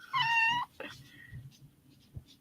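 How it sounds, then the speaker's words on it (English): A talkative pet cat lets out one clear, rising meow at close range, then some faint rustling and small indoor noises. "You might hear meows."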